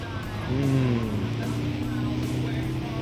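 Mazda 6 race car driving in the video game Gran Turismo 7, a steady engine drone that rises in pitch as the car speeds up and then holds, heard under faint background noise.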